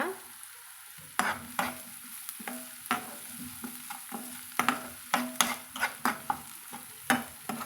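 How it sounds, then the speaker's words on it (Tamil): Sliced onions frying with rock salt in a pan for a spicy onion stir-fry, stirred with a spatula: close sizzling under a run of quick scraping, clacking stirs that grow busier toward the end. "சேர்த்துட்டு கலந்துக்கலாங்க"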